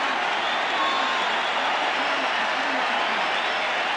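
Crowd at a 1990 Mets–Dodgers baseball game in Los Angeles roaring after a home run, a dense, steady wash of cheering and applause from a large stadium audience.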